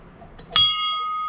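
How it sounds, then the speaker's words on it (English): Someone strikes the wishing bell at Lake Bled in Slovenia, a former warning bell, once. It rings out loud and close, with a bright metallic tone that holds and slowly fades. "This bell used to be a warning bell, but now it is a wishing bell."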